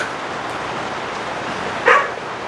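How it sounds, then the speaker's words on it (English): A single short dog bark rings out against a steady hiss of rain. "I think that's why she's barking"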